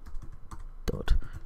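Code being typed on a computer keyboard for a JavaScript lesson, a short run of close, quick key clicks with a couple of louder strikes.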